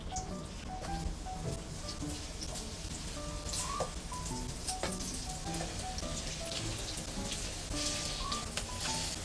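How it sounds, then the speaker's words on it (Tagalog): Potato pieces frying in reused cooking oil that was first used for tofu, a steady, dense crackle and sizzle with scattered pops, close and even throughout. "Piprito ko muna itong mga patatas."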